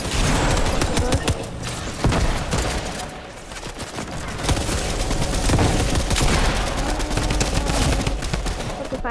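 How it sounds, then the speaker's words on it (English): Guns fire in a Fortnite match, with dense bursts of loud, rapid gunfire and a short lull midway before heavy firing resumes. "Let me just first try using every gun."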